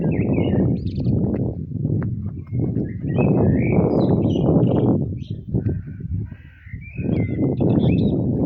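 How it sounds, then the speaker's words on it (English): Birds call and chirp outdoors in Bratislava, Slovakia, near the Slavin memorial, with repeated bright calls over a loud, steady low rumble of wind or traffic. "Lovely bird songs to listen to."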